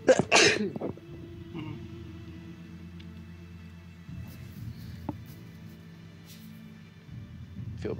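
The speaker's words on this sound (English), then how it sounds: "I feel bad for sneezing in the middle of your videos" A single sharp sneeze bursts out close and loud at the start, followed by quiet low rumbling and faint background noise during an online Armello game session.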